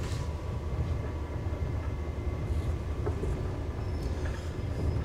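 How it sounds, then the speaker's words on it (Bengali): The Maitree Express, a Kolkata to Dhaka train, leaving the station: a steady low rolling rumble with faint squeaks and clicks of rail noise heard from on board, continuous and moderately loud, with no voices. "ট্রেনটা একদম পারফেক্ট টাইমে ছাড়লো আর কি, 7:10।"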